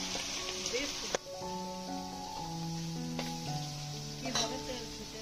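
Shingi fish fry in hot, spattering oil with a constant hissing sizzle, close up. Faint tonal sounds run underneath throughout.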